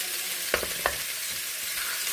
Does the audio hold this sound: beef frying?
yes